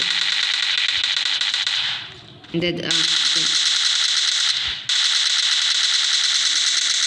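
Rapid automatic gunfire from a weapon in PUBG Mobile rattles loudly and continuously in two long bursts, broken by a short pause with a few softer game sounds.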